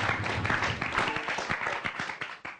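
A stadium crowd claps in an irregular patter for the late footballer Mokhtar Dahari at Stadium Angkasa, moderately loud and a little distant, fading toward the end with no talk over it.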